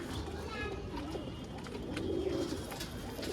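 Calm female pigeons at a pigeon collection coo softly and continuously, a low murmuring coo mixed with faint chirps in a busy loft with background voices.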